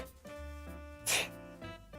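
A single sharp, breathy sneeze bursts out briefly over soft background music, close and loud against the quiet tonal backing.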